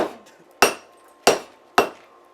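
A hammer forging scrap steel into a hatchet strikes three sharp, loud metallic blows at a steady pace, each with a brief ringing decay.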